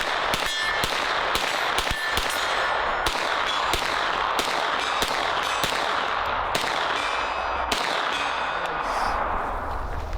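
Rapid gunfire from a Springfield Kuna and an H&K MP5 at a shooting range, with metallic clangs of rounds striking steel targets; loud, repeated bursts of sharp shots throughout, with brief speech.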